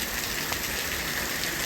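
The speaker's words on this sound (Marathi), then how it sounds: "इतका जोरात पाऊस पडायला लागलाय बदाबद पाणी पडतंय" Steady, dense rainfall pours down without pause, a loud continuous hiss of water drumming on surfaces close by.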